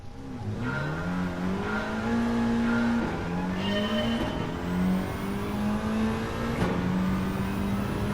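A car in Gran Turismo 7, driven with ABS switched off, revs hard through repeated upshifts, its engine note climbing and dropping in steps over several seconds, loud and alone.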